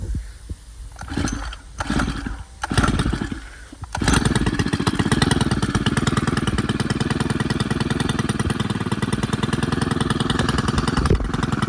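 Stihl FS91R string trimmer's small two-stroke engine revving up loud and steady after a few sputtering starts, then droning continuously and close at a constant pitch.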